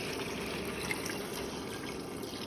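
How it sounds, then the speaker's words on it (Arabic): Hot water is poured into a pot of browned meat for Saudi kabsa, a soft, steady splashing trickle that runs throughout at a moderate level. "هنبدأ نضيف المية بتاعتنا مية سخنة"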